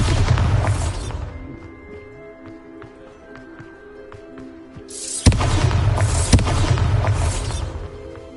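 Bombarda spell blast in Hogwarts Legacy, one sudden loud explosive boom cutting through quieter game ambience and music, followed by a lingering rumbling crackle, close and alone.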